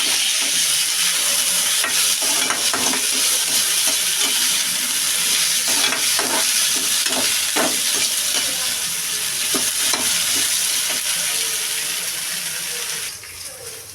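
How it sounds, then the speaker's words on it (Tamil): Pirandai (adamant creeper) sautéing in a pan for thuvaiyal, a loud continuous sizzle with repeated stirring scrapes, close and steady before tapering off at the end. "இதை நான் அப்படியே போட்டு வதக்க போகிறேன்"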